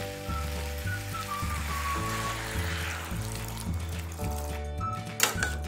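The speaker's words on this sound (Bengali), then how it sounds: "এবার জল দিয়ে দেব। জলটা কিন্তু একটু উষ্ণ গরম জল দেবেন" Warm water pours into a cooking pot of a Bengali vegetarian dish, a steady close trickle and splash under a repeating background melody, with a brief clatter near the end.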